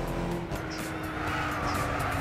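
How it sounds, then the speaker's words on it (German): BMW Z4 race car in Gran Turismo 6 accelerating hard, a steady engine roar with sustained tonal whine holding loud throughout, with possible tyre squeal. "Jetzt gibt er Gas, der Z4."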